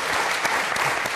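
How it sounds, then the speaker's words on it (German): A studio audience at the SWR Nachtcafé talk show bursts into steady, full applause, a dense wash of clapping that fills the whole short moment without any voices. "Heute gibt es Applaus."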